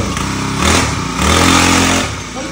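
A small engine, likely a motorcycle, fires up and settles into a steady idle, with two louder surges as it revs, close by and loud throughout.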